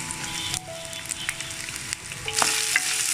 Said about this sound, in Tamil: நல்லெண்ணெயில் இந்த பூண்டு நல்லா வதங்கும் போது நமக்கு ரொம்ப டேஸ்ட் கொடுக்கும்.